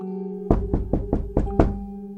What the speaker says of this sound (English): Suddenly, there was a soft knock on the front door.